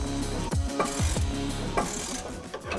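A ratchet wrench backs out a 13mm bolt on a bracket of a 2007-20 Silverado/Sierra during a bull bar fitting, several short bursts of rapid close clicking with brief pauses between them.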